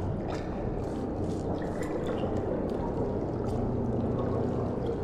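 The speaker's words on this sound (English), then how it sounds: "I don't like the sound the water is making." Flowing water in the Portal video game, a steady, continuous rushing wash with no pauses, moderately loud and alone throughout.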